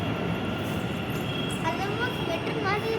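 A metro train rolls along with a steady rumbling ride noise and a faint high whine, while muffled voices murmur in the background.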